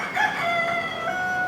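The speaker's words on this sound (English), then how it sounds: "Imagine the crow of a rooster in the morning and you're transported to a farm." Rooster crowing, one clear and fairly close cock-a-doodle-doo call lasting the full moment, heard alone.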